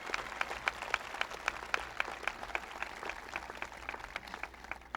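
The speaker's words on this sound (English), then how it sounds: "Let's give them a round of applause for the great work that they did" An audience at a 1998 American Heritage Rivers designation ceremony with President Clinton applauds the advisory committee, sparse distinct hand claps in a loose steady rhythm, moderately quiet in a large room.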